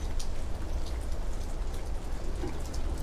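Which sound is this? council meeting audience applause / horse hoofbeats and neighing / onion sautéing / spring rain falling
spring rain falling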